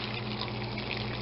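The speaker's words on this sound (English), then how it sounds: "Now we pour our egg mixture" Egg mixture poured over bread, cheese and butter for a slow-cooker cheese soufflé: a brief, steady liquid pour with a soft, even splashing flow, close and quiet, with no talk.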